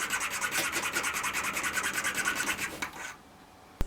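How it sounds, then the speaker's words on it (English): Needle file rasping back and forth to square a hole in walnut, a rapid rhythmic series of close scraping strokes that stops near the end, no talking. "To fix this I use a needle file to square off the hole."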